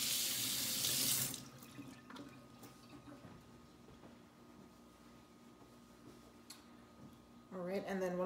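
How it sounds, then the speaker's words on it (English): A kitchen tap gushes into a sink for about a second while hands are washed, then cuts off, leaving quiet handling noises before a voice begins speaking. "I'm gonna wash my hands."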